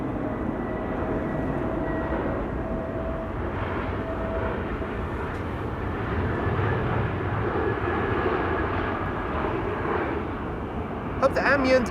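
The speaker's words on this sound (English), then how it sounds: "This is a Transavia A321 Neo arriving from Naples." A Transavia Airbus A321neo arrives from Naples at Amsterdam Schiphol Airport, a steady distant jet roar with broadband rumble holding at moderate loudness throughout, brief clicks near the end.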